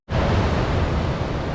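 Lots of water rushing over rocks at a creek in the Victorian High Country, a loud, steady broadband wash of flowing water, close to the microphone and unbroken.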